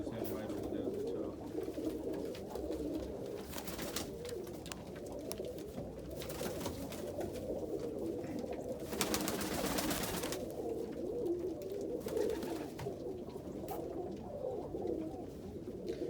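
Black Mookee pigeons, a mated pair among birds in a loft, coo softly and repeatedly at moderate distance over a steady background murmur, with no talking.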